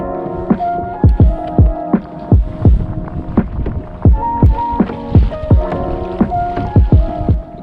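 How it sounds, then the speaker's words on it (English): A pedal kayak moves across open water, its pedal drive giving a steady series of close, rhythmic thumps and knocks with faint ringing tones under a light wind rush. "we're out on the pedal kayak, which is 100 times easier than a normal kayak"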